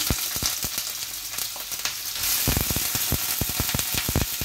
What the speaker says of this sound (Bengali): এখন ভাজি করবো করলা।